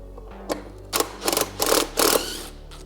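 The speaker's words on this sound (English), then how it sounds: "take your DeWalt impact gun and you can just blast off the bolt" A DeWalt impact gun hammers a stud bolt out of a dirt bike engine case in four short, loud rattling bursts that come close together and grow longer toward the end.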